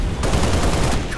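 A short, dense burst of rapid automatic covering gunfire in the video game Halo: Reach, loud and close, with a voice briefly audible at the end.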